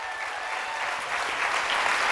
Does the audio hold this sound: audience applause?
yes